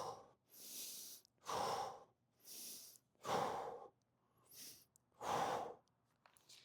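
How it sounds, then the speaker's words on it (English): A person breathes heavily during a dynamic running warm-up stretch, with five or six loud, slow, breathy exhales and inhales spaced about a second apart, close to the microphone with no talking. "And then I'm breathing here."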